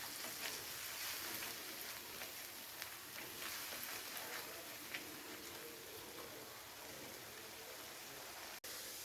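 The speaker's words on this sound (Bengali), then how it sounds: "এবারে পেঁয়াজের সাথে আবারও খুব ভালো করে রসুন আর কাঁচা লঙ্কাটাকে কষিয়ে নিতে হবে" Onion paste frying in a pan with garlic and green chilli paste gives a quiet, steady, hissing sizzle with faint crackles. A single sharp click comes near the end.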